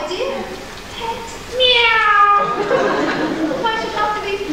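A voice imitates a cat's meow in a stage performance of The Mikado, giving one drawn-out, rising and falling mewing call that stands out loud and clear against the quiet room.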